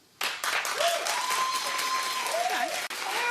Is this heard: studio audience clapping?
yes